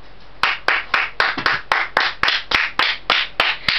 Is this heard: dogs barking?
no